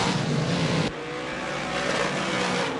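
Modified race cars roar down the back straightaway into turns three and four at Merrittville, a loud continuous engine drone with a sharp drop as one car passes, then sustained revving from the pack.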